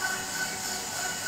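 A heavy-duty stand mixer beats butter for chocolate chip cookie dough, giving a steady, continuous whirring hum with a faint high whine, unbroken and fairly loud throughout.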